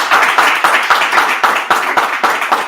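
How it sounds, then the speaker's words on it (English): Applause from a live audience at a Go programming meetup in Vienna, a dense steady patter of many hands clapping close by for about three seconds, with no talking. "Then a big applause"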